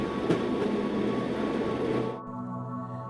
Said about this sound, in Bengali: ট্রেনটা 2-3 মিনিট থেমে চলে গেল।